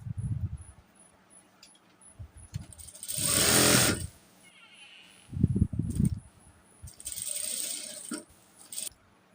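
An electric sewing machine stitches nightie fabric in several short, rattling bursts, separated by quieter handling sounds.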